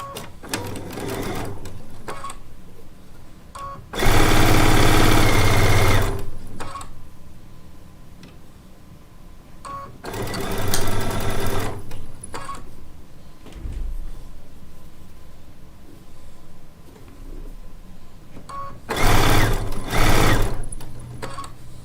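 Sewing machine stitching a seam joining rows of charm pack squares for a disappearing four-patch quilt, heard in three loud, close bursts separated by quieter handling gaps.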